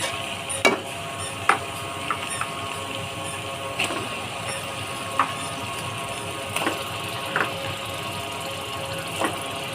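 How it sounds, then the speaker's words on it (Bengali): Beef tripe being sautéed in a thick spiced masala, with a steady low sizzle and repeated sharp scraping clicks of a spoon against the pan at irregular intervals, no voices. "এগুলোকে আমি ভালোভাবে কষিয়ে নেব"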